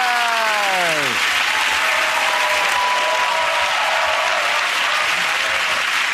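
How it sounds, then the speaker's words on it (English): Studio audience applauding on a British comedy panel show, a loud, dense, steady wash of clapping that fills the whole stretch, with a brief falling musical tone fading near the start. "OK, again, that round of applause with Ed here"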